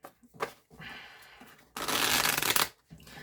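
Tarot cards are riffled and shuffled close up on a book, a soft flutter building into a louder, dense burst of shuffling before stopping.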